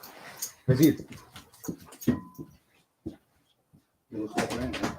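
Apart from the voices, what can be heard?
dog whimpering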